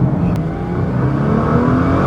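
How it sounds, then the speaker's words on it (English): A 2013 Nissan GT-R accelerates hard in second gear, its engine a loud, continuous close-up roar with a slowly climbing pitch throughout. "second gear pulls hard"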